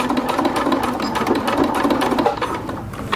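A sewing machine lock-stitches the hem of an ultralight tarp, a close, rapid, even mechanical whirring that runs steadily throughout.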